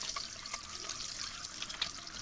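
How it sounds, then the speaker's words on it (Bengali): Water drains off parboiled rice for homemade chicken biryani, a faint, steady trickle and splash with no one talking. "এবার আমি এগুলোকে নামিয়ে জল ঝরিয়ে নেব।"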